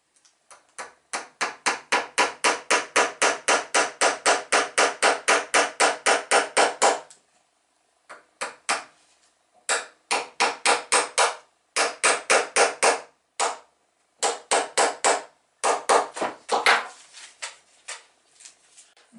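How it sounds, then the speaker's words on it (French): Small nails are tapped into the rigging of a wooden toy boat, Berck-style model 39, in rapid bursts of light hammer blows, with runs of quick strikes separated by short pauses, close and clear. "Et ensuite, on peut clouer les stropes en position."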